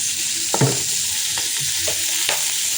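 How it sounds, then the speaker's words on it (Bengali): A small amount of oil heats and sizzles in a wok, giving a loud steady close hiss with a few soft scraping stirs and faint knocks, and no speech. "তেলটা তো এখানে গরম হচ্ছেই খুব সামান্য তেল গরম হচ্ছে"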